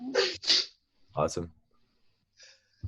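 A person sneezes during an online meeting about grant funding, a sharp burst near the start, followed by short speech and quiet breathing.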